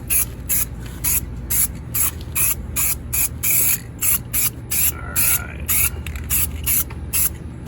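Spray paint applied to a car wheel in light flash coats, a string of short, sharp hissing bursts, each about a quarter second, repeated in quick irregular rhythm close to the can.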